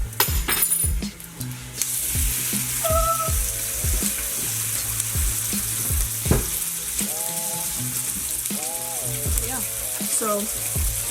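Bacon fries in a pan with a bright, continuous sizzle and occasional light clinks, while a voice murmurs faintly in the background.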